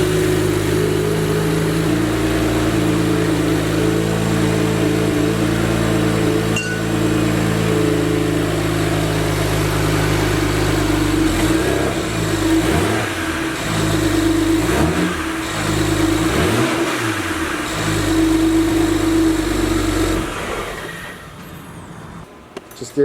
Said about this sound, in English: I'm going to start the car and rev it a little bit